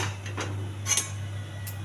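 A pan is set on a lit stove in a home kitchen while gulab jamun is being made, giving a few light metallic clinks over a steady low hum.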